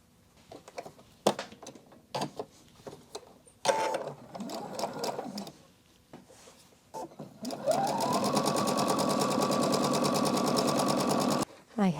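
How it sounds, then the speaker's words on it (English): Sewing machine stitching quilt strips together with a quarter-inch seam, preceded by scattered handling clicks and rustles, then a loud sustained steady whirr of stitching that stops abruptly near the end. "I just lay the strips together and stitch 1/4 inch."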